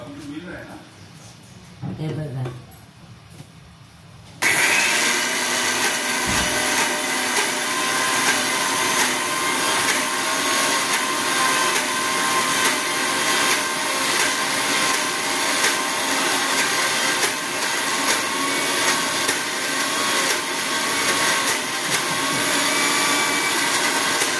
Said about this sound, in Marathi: हे आता मी बारीक करते। जास्त डाळ आहे ना, 2दा केलं जाईल बारीक, म्हणून हे आता बारीक करून घेते।